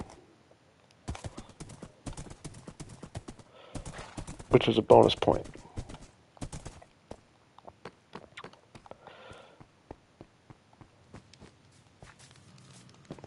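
A pure white horse walking in Minecraft, its hooves giving a light, irregular clip-clop that goes on throughout, with a person talking over part of it.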